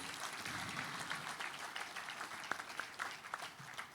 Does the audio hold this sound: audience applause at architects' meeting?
yes